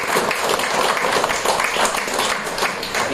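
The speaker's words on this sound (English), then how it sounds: "and I think she deserves a round of applause" Round of applause from an audience at a business breakfast with a minister, a dense, fairly loud crackle of clapping hands lasting throughout without pause.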